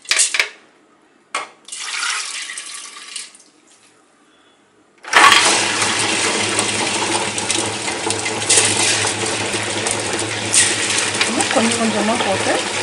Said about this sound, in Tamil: ஆன் பண்ணிக்கலாம் கிரைண்டரை.